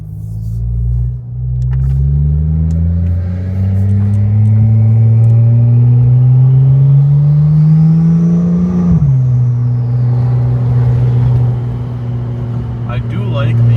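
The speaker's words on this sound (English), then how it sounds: "the spool of the turbos a lot." A modded Porsche 911 Turbo accelerates hard, its engine note climbing steadily in pitch over several seconds before a gear change, while the turbos whistle rising above the deep exhaust rumble; loud and close throughout.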